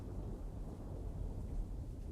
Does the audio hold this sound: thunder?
yes